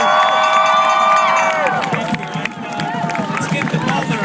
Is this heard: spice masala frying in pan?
no